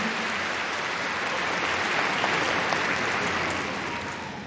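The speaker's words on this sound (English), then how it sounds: "Big round of applause for Mouse." Sustained, dense applause from a large audience at Crufts 2019, following a Staffordshire Bull Terrier display team's performance in the ring; the clapping stays steady and full for several seconds before easing slightly at the end.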